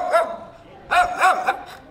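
A neighbours' dog barks in short, loud bursts close by, one yelp then a quick cluster of three or four barks, with no speech over them.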